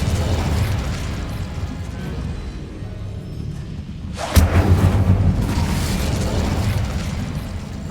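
An Incendio fire spell is cast in Hogwarts Legacy, bursting out with a sudden loud whoosh-and-blast midway and then trailing off into a crackling fiery rumble over a steady background of game ambience.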